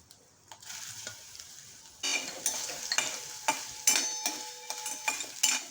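Soya chunks frying in ghee in a kadai, a soft sizzle with sharp scrapes and clinks of a spoon stirring against the pan, growing louder after a quiet start.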